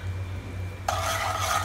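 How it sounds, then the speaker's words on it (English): Turmeric powder and salt are stirred into hot oil in a pan, a faint low hum followed by a sudden burst of sizzling and scraping that carries on to the end. "Our oil is nicely heated up, so put little bit of haldi powder or turmeric powder and salt"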